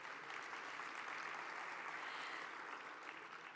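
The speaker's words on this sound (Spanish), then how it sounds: "Un aplauso." A crowd applauds steadily, a dense wash of clapping that holds evenly throughout and fades slightly at the end.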